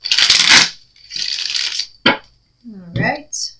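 A deck of tarot-style playing cards is shuffled close up in bursts, with riffling flurries separated by short pauses and a sharp snap, and a brief voice murmur near the end.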